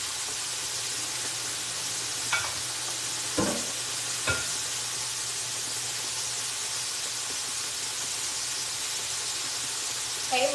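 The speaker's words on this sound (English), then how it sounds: "I need to put these chops on" Pork chops frying in a pan for a kids' dinner, a soft steady sizzle running underneath with a few sharp brief clatters and squeaks from the pan and utensils, no talking.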